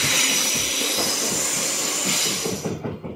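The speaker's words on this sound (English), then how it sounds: "as the train pulled away from the station" A train pulling away from a station, with a steady hissing, screeching rail-wheel noise and rumbling carriages, fairly loud and continuous before fading out at the end; no voices.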